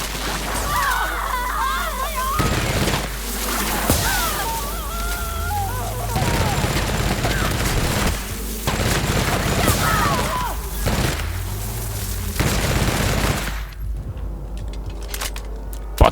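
Weapon fire in The Outer Worlds comes as several heavy, booming bursts spaced a few seconds apart, mixed with mechanical clanks and game effects, fairly loud and close.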